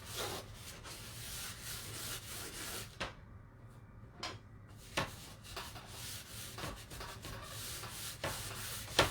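Colored wax being rubbed onto a wooden board, quiet repeated brushing and scrubbing strokes with a few soft knocks, close by and without talk.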